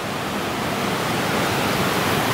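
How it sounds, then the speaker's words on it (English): Small cascades tumbling through a deep-forest meadow creek, a steady, full broadband rush of close water that fills the whole moment without pause or voices. "I love these little cascades here."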